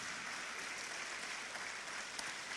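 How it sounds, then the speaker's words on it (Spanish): A church congregation claps in a continuous, dense wash of applause, faint and distant-sounding, holding steady throughout. "Dele un aplauso al Señor."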